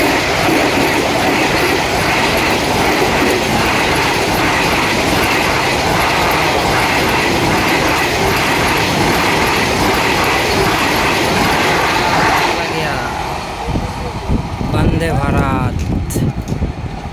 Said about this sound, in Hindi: वंदे भारत एक्सप्रेस आ रहा है।